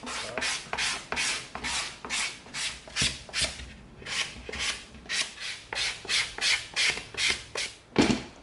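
EVA foam is sanded by hand with fine 220 and then 320 grit sandpaper, making a steady rhythm of about twenty close, dry rasping strokes with no one talking.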